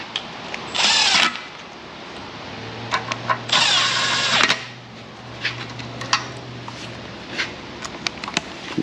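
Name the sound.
impact wrench running down oil pan bolts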